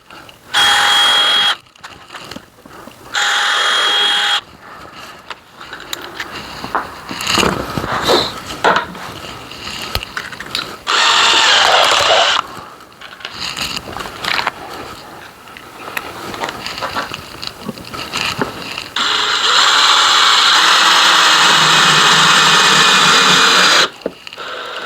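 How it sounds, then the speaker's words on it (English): A power drill bores pilot holes in birdhouse wood in several separate bursts, with short whirring runs between pauses and a longer sustained drilling run near the end, close and loud. "All right, so let's drill a couple pilot holes."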